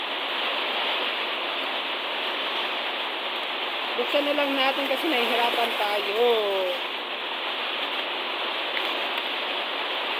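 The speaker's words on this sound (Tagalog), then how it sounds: "palakas yung ulan" Heavy rain pours down in a steady, dense hiss that fills the whole clip, with someone speaking briefly over it near the middle.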